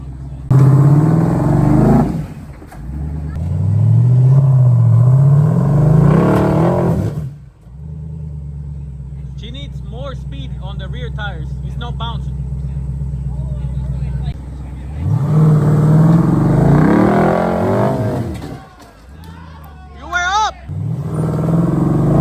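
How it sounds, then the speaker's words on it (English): Jeep with a V8 engine crawling off-road over mud and rocks, revving loudly in two long bursts with a quieter idle stretch between, while voices talk nearby. "Luna, if it doesn't go off, you gotta get off the gas"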